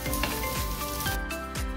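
Chicken liver fries on a tawa with a steady, close sizzle, broken by a few light scraping and stirring knocks against the pan.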